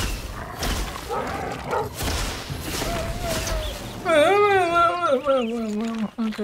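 A dog in the video game Enshrouded gives a few rising and falling whining yelps near the end, heard over ongoing talk and game noise.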